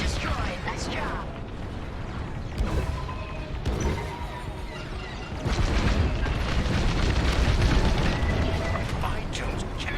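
A station dish explodes in the Star Wars Squadrons space combat game, a deep rumbling blast that swells louder midway and rolls on as a heavy roar, mixed with the busy sounds of battle.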